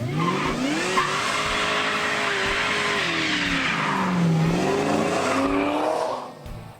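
A 1968 Oldsmobile 442 with an LS engine swap accelerates hard, its engine roaring loud and close with rising revs and tire squeal, the pitch climbing, dipping and climbing again before fading at the end.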